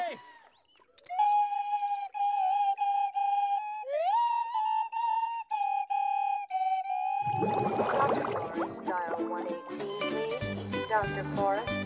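A cartoon slide whistle plays a series of sustained pitches that glide up and hold, loud and clear, before a busy burst of orchestral music and clattering sound effects takes over.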